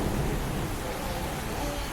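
Steady rain falls on a city rooftop or balcony during a sudden shower, a dense even hiss with a low thunder-like rumble underneath, close and continuous without pause.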